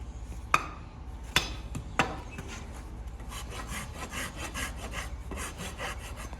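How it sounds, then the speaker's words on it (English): A farrier's rasp drags across a horse's hoof wall in steady, close, rhythmic strokes, with a few sharp knocks near the start. "I take my rasp at a 45-degree angle, and I rasp the hoof wall like this"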